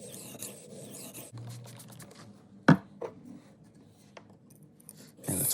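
An estate sale butcher knife is sharpened on a 600 grit diamond stone, with close rasping strokes, light scraping and a couple of sharp knocks, no talking.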